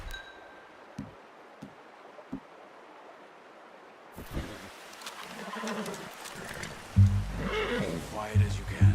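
Horse whinnying in the video game Red Dead Redemption 2, a brief neigh amid quiet outdoor ambience with faint taps, followed by people talking.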